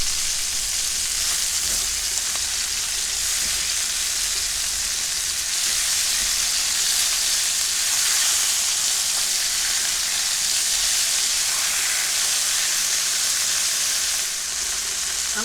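Pork chops fry in a hot pan, giving a loud, constant sizzle and crackle that holds steady with no voices over it.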